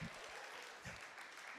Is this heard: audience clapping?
yes